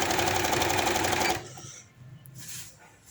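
Sewing machine stitching the side seam of a maxi frock, a steady fast mechanical whir for over a second, then stopping, leaving quiet room noise.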